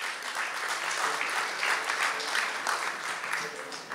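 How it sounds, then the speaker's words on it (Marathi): An audience at a Marathi cultural tribute event claps loudly and steadily, many hands together forming a dense, sustained wash of applause that keeps going for several seconds. "एकदा जोरदार टाळ्या"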